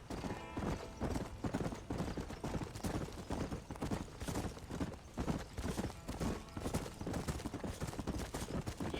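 Horse hooves clip-clop at a brisk trot in the Red Dead Redemption video game, a steady close rhythm of hoof beats with faint creaks and no speech.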